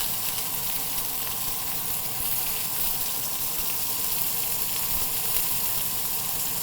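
Pork frying in a pan, a continuous close sizzle and crackle of hot fat that holds steady for several seconds with no talking.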